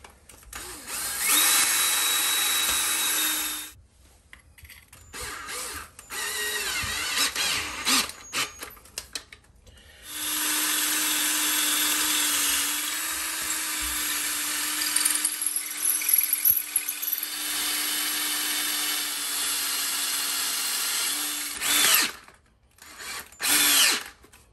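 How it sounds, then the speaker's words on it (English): A power drill bores into a cement floor to set a new toilet flange, running in long loud whining bursts with short pauses and a couple of brief stops near the end. "I marked my drill bit so I know how deep to drill"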